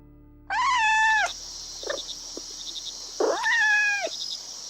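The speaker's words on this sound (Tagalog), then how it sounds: "Pusa? Anong nagkapusa rito?" A black cat meows twice, close and loud, with long drawn-out cries and a softer sound between them, in a quiet room.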